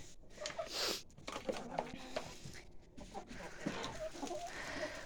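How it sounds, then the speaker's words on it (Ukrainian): Young hens cluck softly and intermittently close by in a farmyard, with short bursts of chicken calls and background rustling. "Почали нестися вже й молоденькі курочки."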